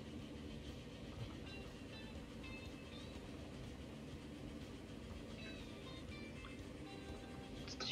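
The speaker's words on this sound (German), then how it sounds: "Wenn hier dann die Lok durchfährt." A locomotive-hauled train runs through in the Transport Fever 2 game, giving a steady rumbling rail roll with faint clickety-clack and occasional higher squeals, holding at even loudness throughout.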